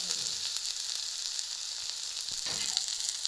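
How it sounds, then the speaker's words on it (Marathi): Garlic frying in oil poured into a cleared space among cooking okra, a constant bright sizzle with a few soft stirring scrapes near the end, close and without talk. "त्याच्यामध्ये तेल ओतले आणि आता लसूण भाजून घ्यायचं आहे"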